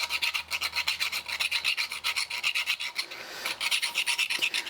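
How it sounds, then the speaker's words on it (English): A burred bicycle Q-loc quick-release skewer is sanded by hand, giving quiet rhythmic rasping strokes in a steady back-and-forth pattern with a short pause partway through. "So that's going to need sanding."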